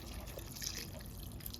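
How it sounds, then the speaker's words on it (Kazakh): Water pours into a cooking pot, a faint, steady trickle and splash that runs unbroken and alone for under two seconds. "Енді тағы да аздап су құйып жатырмын."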